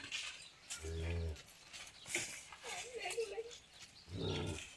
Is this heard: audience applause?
no